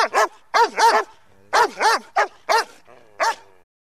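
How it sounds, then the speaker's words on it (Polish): A poodle barks in a quick series of about ten sharp, close yaps in uneven bursts, loud and clear against silence, used as an audiobook sound effect. "Cofnął się zdumiony i zaczął szczekać."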